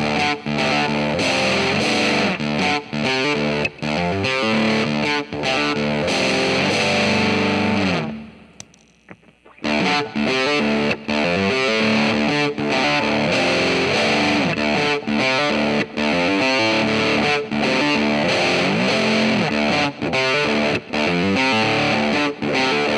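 A Gibson SG electric guitar runs through a Lotus overdrive into a Trefilio Silverado preamp pedal, playing loud, driven rock riffs that break off briefly near the middle, then continue without talking.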